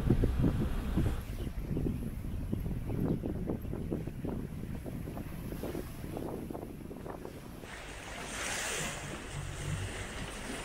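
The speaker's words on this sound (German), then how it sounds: "Von da oben vom Kap kommt jetzt ein ganz warmer Wind runter, also richtig warm." Gusty warm wind coming down from a cape buffets the microphone aboard a sailboat with a steady rush and rumble, water sloshing faintly beneath; no voices.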